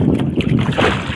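Wooden paddle strokes push a small fishing boat across open sea, with a short, close swish of water and gusty wind buffeting the microphone.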